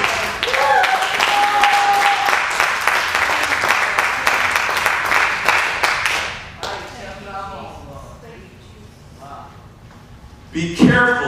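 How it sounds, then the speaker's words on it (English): A church congregation claps hands in praise, a lively burst of clapping for about six seconds that then fades, followed by quieter voices and scattered sounds, with a sharp thump near the end. "Let's give the Lord that hand clap of praise."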